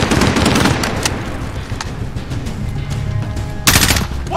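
Sustained automatic gunfire from a Call of Duty: Modern Warfare firefight rattles continuously and loudly, with dense overlapping bursts and a sharper, louder volley near the end.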